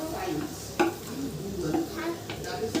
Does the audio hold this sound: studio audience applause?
no